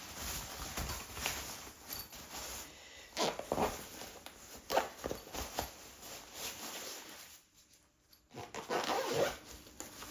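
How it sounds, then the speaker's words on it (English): Zipper pulled closed on the carry bag of a Sitpack Campster 2 aluminium camping chair, several short scratchy runs with rustling handling noise, close, and a brief quiet gap near the end. "Zip it up, the job done."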